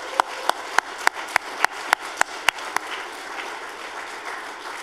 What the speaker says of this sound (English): let's just give Nicola a round of applause